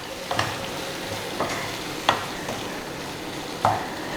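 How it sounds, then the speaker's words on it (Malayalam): A spatula stirs quail egg roast masala in a pan with the flame off. Several distinct scraping strokes come at uneven intervals over a low, constant sizzle, close and fairly clear, with no voices. "നന്നായിട്ടൊന്ന് മിക്സ് ചെയ്ത് കൊടുക്കാം."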